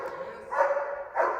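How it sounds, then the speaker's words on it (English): A working-line German Shepherd barks during IGP protection training: two loud, close, deep barks about half a second apart, each followed by a short gap, with no talking. "every time he bark"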